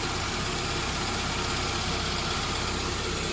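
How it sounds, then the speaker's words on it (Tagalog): A Toyota Corolla engine idles steadily, a dense even rumble with a faint knocking texture, close and constant throughout, with no voices. "pakinggan nyo na lang muna yung makina"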